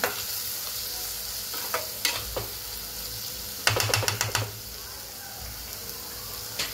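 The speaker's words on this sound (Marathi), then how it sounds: "आपण कोकम टाकून घेऊया याच्यामध्ये। आपण व्यवस्थित परतूया।" Squid masala with kokum sautés in a pan, a continuous sizzle and hiss of frying broken by scraping stirs and a quick burst of spatula knocks against the pan.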